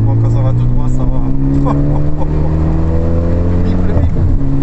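Renault Mégane 3 RS Trophy with a full exhaust and cup chassis, its engine pulling steadily on a straight, the tone rising smoothly and loudly from inside the car while voices talk over it.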